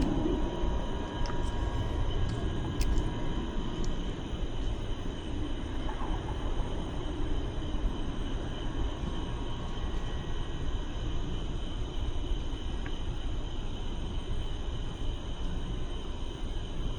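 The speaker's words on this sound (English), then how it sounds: "Engine noise coming from runway at around 1 a.m." Aircraft engines run at a Dallas airport runway around 1 a.m., heard from a distance as a steady, continuous low rumble with no talking.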